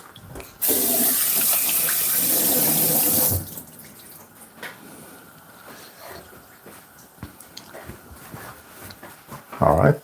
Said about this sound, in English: So I'm just gonna rinse my hand off a little bit.